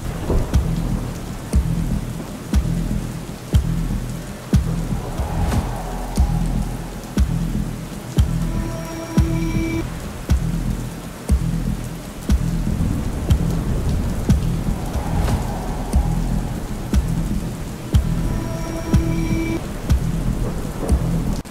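Heavy monsoon rain pours steadily in Nagpur, a dense, loud wash of drops hitting surfaces, with thunder rumbling and cracking several times across the downpour.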